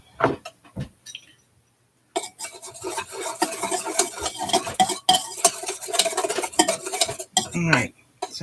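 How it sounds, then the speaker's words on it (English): A spoon stirs yeast, water and molasses in a mixing bowl for rye bread dough, giving repeated close scraping and clinking. A few brief knocks come first, then a pause, then the stirring runs continuously. "But I think I should stir it."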